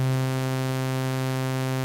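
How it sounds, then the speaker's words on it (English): A synthesized tone holds a steady C note with a bright, buzzy harmonic texture like a sawtooth wave. It sounds alone and unchanging for about two seconds. "I will now morph this waveform from being a sine wave to being a sawtooth waveform"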